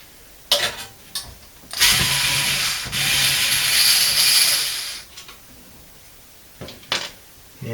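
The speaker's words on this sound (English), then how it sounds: "So let's take these screws out." Screws being removed from a Y2K-era HP Pavilion PC chassis: short rasping and whirring bursts, with one long sustained grinding stretch in the middle and brief scrapes and clicks before and after, close and alone.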